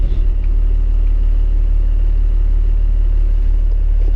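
Loud, steady low rumble of a first-generation Cummins diesel engine running in an old truck with locked-up brakes, a continuous close drone without speech.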